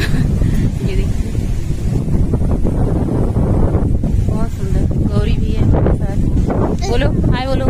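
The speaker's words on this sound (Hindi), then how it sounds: "खूब तेज़ हवा चल रहा है" Strong wind blows outdoors in the evening, a constant loud rumbling buffet on the microphone throughout, with people talking over it.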